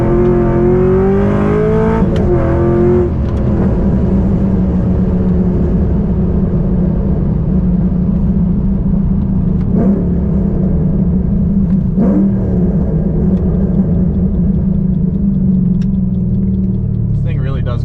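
A Ford Falcon BA GT engine revs hard, then settles into a sustained loud acceleration drone from inside the car, with several short clicks and shifts along the way and a few words spoken early.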